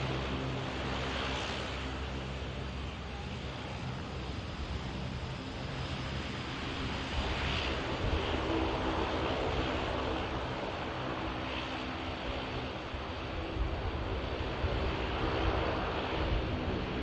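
An EasyJet A320neo approaching to land at Manchester Airport, a broad steady roar of distant jet engine noise mixed with wind, continuous and fairly faint throughout.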